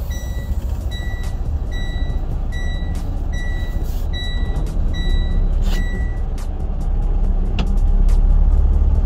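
FedEx semi truck with doubles trailers reversing toward the rear trailer, a steady low diesel rumble under a regular series of high backup-alarm beeps, with occasional air hiss and clatter.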